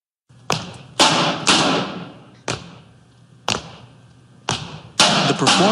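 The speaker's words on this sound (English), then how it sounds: "When the cast pounds on garbage cans or bangs their poles on the ground" Stomp performers pound garbage cans and bang poles on the ground onstage, making loud, sharp thuds and booming hits in an irregular rhythm, each blow ringing out briefly before the next.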